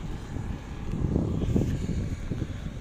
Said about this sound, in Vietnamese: gió dã man luôn